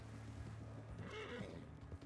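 A horse whinnies and neighs while being fed in Red Dead Online, a short wavering call in the middle over low background rumble, fairly quiet.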